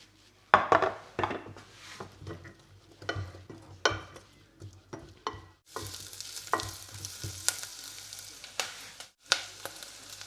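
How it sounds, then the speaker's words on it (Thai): Onion stirred and sautéing in melted butter in a home kitchen pan, with soft sizzling under repeated scraping and stirring clatter of a utensil against the pan, close and fairly quiet, without talk. "เนยละลายนะคะ บีก็จะผัด เอาหัวหอมใส่"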